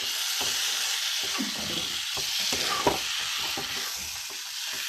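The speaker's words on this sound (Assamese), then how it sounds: "অলপ দেৰি ভাজি লওঁ।" Steady sizzling of rice with cumin frying in a pan for jeera pulao, with intermittent scraping and stirring clicks near and fairly loud throughout.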